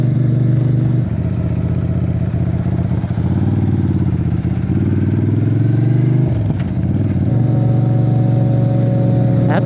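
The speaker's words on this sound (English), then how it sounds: "That's a loud bike." A loud motorcycle passes close by on a road, its engine note swelling and shifting continuously across the whole stretch with a steady rumbling drone, no talking over it.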